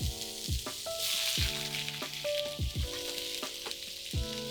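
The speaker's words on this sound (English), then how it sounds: "I will saute the vegetables" Vegetables sautéing in hot vegetable oil in a preheated saute pan, a crackling sizzle punctuated by repeated scraping stirs and clanks of a utensil against the pan.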